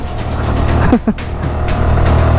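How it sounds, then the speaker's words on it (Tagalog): A motorcycle engine runs loudly and steadily throughout a ride on the Taal loop, with a brief dip in the middle and a broadband rumble of wind and road under it. "Ang lakas ng motor ni Kuya oh."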